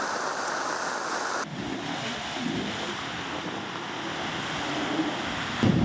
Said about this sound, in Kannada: ಮಳೆಯ ಅಬ್ಬರಕ್ಕೆ ಸಮುದ್ರದಲ್ಲೂ ಕೂಡ ಭರ್ಜರಿ ಅಲೆಗಳು ಬರ್ತಾ ಇದ್ದಾವೆ.